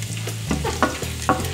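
Garlic and ginger frying and being stirred in a pan for chicken adobo, a steady close sizzle broken by a few sharp scraping stirs of the utensil.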